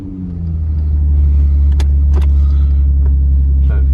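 A Nissan 350Z pulls away up the road with a deep, steady engine rumble that builds over the first second, with a few sharp clicks and knocks over the drone.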